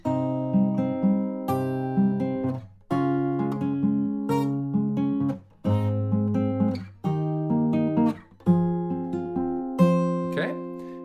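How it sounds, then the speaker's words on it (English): Slow fingerpicked acoustic guitar pattern for the chorus of a song, ringing chords plucked note by note in a steady, unhurried rhythm with brief pauses at each chord change, close and clear with no talking. "the picking pattern for the chorus sounds like this"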